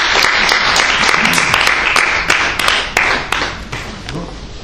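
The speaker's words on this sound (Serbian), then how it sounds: "Aplauz za Miloša Srinjanska." Audience applause after a literature and music evening, dense clapping that swells and then gradually thins and fades over a few seconds.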